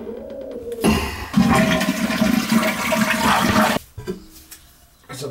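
A toilet flushing nearby: a sudden loud rush of water that swirls and gurgles for a few seconds, then drops off to quieter trickling and refilling.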